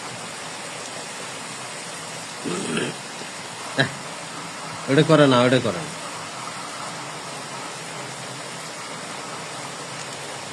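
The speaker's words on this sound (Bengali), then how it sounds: "দেখেন প্রচন্ড বৃষ্টি গো" Heavy rain falls as an even, steady hiss throughout. A voice and a few short knocks break in over the downpour partway through.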